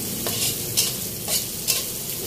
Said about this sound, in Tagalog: Sambutin na natin yung sibuyas.